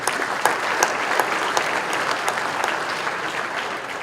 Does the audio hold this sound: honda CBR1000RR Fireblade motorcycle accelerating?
no